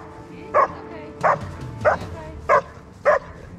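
A German Shepherd puppy gives five short, sharp barks at an even, steady pace, close by against low background noise.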